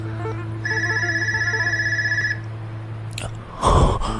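A telephone rings with a steady electronic trill of rapid repeated pulses lasting under two seconds over a low hum, followed by a brief clatter as it is picked up.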